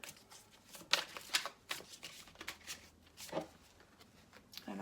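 Tarot cards are shuffled by hand for a reading in a quiet room, giving a series of close riffling and slapping bursts that rise and fall irregularly.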